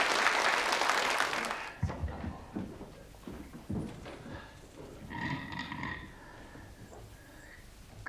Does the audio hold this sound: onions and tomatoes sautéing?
no